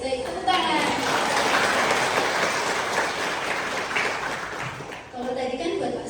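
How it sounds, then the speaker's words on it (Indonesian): Dense, steady applause from a seminar audience of Quran-school teachers fills a large hall, loud and continuous for several seconds before tapering briefly near the end. "Baik, tepuk tangan."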